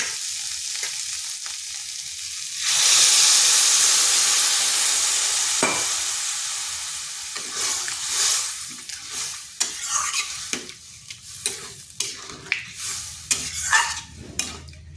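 Potatoes and mushrooms frying in a pan hiss into a loud burst of sizzling as water is poured in, then settle into steady bubbling while a spoon scrapes and knocks against the pan in a regular stirring rhythm.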